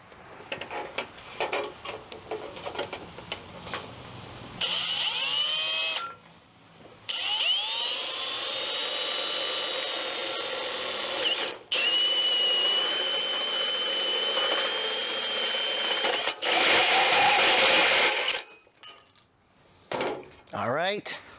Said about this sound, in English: I find sometimes it's easier using a hole saw.